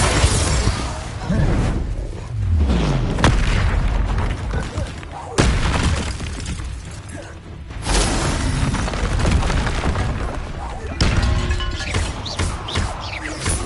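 Confringo explosion spells cast in Hogwarts Legacy on PS5 go off as loud, repeated booming blasts with shattering crashes, densely layered and nearly continuous.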